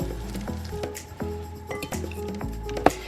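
Soaked food is laid onto a cooking pan with a few soft, wet squishes and light metallic clinks, close up and quiet, with no talking.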